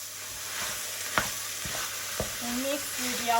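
Minced beef or pork sizzles in a pan with carrot, celery and onion for ragout, a steady frying hiss broken by a few sharp stirring scrapes and utensil clicks.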